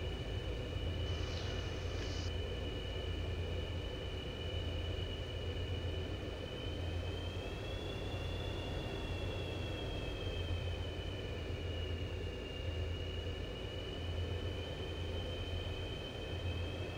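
Steady broad rumble of an F/A-18E rolling down the runway after a hard landing in the VRS flight simulator game, with a high engine whine that drifts in pitch, continuous and unbroken, with no voices.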